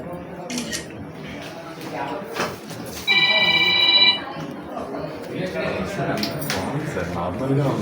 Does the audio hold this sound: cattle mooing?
no